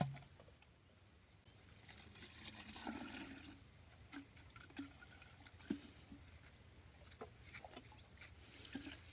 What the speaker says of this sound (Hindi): जो हमारी शीशी वगैरह है, शीशी, इनको हम खंगाल लेंगे।